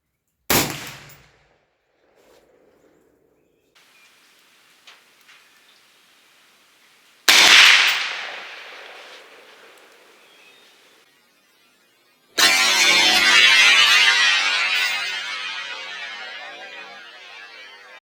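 A short-barreled AK-47 fires a high-velocity full metal jacket handload into level 4 body armor, three sharp, loud reports spread apart, each followed by a decaying echo and noisy tail, with a faint thump between.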